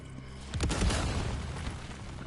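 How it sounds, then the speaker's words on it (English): Grenade blast in the Resident Evil 4 Remake video game: a heavy booming explosion erupts about half a second in, then a loud rumbling decay with debris crackle that fills the rest of the short clip. "Throws grenades."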